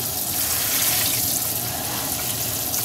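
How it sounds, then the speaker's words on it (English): Water from a sink tap sprays onto brass-cleaning media inside a Frankford Arsenal tumbler drum, making a loud, continuous hiss and splatter close by. "I'll turn the water on and I'll spray."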